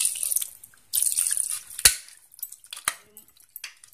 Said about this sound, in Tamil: நம்ம இதில் கொஞ்சமாக தண்ணி ஊற்றிக்கலாம்.